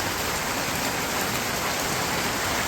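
Steady rain starting to fall in a rural village, a dense even hiss of drops on surfaces holding at a constant loud level throughout with no pauses or voices.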